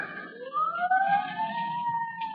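Police sirens rising in pitch as they approach, a wailing electronic siren effect from an old-time radio drama, heard alone and fairly loud with rising and falling tones.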